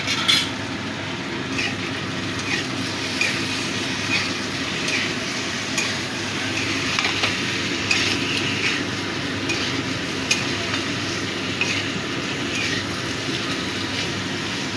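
Chhana and tomato fry in a pan with a steady sizzle, while a utensil stirs and scrapes in short, irregular bursts. Nobody talks over the kitchen sounds.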